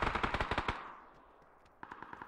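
A rapid burst of automatic gunfire in PUBG, about eight sharp close shots in quick succession, then a decaying echo and a few fainter distant shots.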